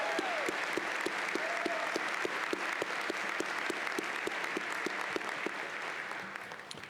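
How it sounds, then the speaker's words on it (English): An audience at a university commencement ceremony applauds a faculty jazz quintet, a sustained, even wash of clapping with individual claps standing out, heard from within a large hall with no speech over it. "Will you join me for another round of applause for the Millikin Faculty Jazz Quintet"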